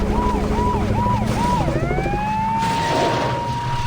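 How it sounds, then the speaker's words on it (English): An ambulance siren in the video game Saints Row wails in a loud repeating yelp and then slides into a rising sustained tone, heard up close over a steady engine rumble and background game noise. "I got distracted by the ambulance"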